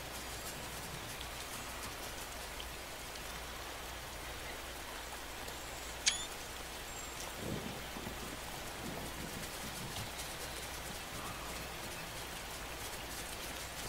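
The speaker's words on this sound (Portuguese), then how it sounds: "Tá chovendo." Steady rainfall in the video game Spore hisses evenly throughout, with a couple of faint knocks breaking the constant patter.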